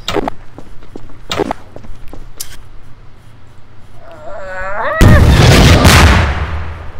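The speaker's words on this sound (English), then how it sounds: "How did you spawn a nuke in?" A nuke detonating in the sandbox game Garry's Mod: a sudden loud, broad roaring blast that swells and rumbles for about two seconds before slowly fading, following earlier scattered thumps and a brief whining tone.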